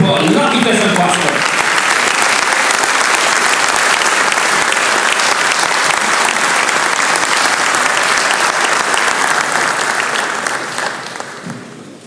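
Sustained audience applause at a Romanian motorsport champions' awards gala, loud and dense clapping filling the room for about ten seconds before tapering off near the end.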